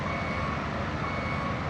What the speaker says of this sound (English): It's got a backup alarm.